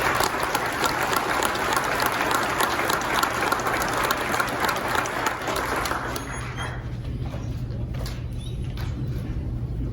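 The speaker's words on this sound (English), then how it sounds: "A round of applause for Lieutenant Funk." Clapping from an audience at a sheriff's department promotion and awards ceremony, moderately loud and steady, thinning out toward the end.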